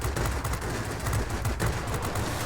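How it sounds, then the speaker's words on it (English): Six aircraft cannons firing on a P.1056 fighter plane in the World of Warplanes combat game, a steady, dense rattle of rapid shots that continues loud and unbroken throughout. "See what we can do here with our 6 cannons."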